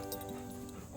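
A dog plays and whimpers softly in a quiet indoor setting: faint, thin whining tones rise and fall with small yips in a short burst.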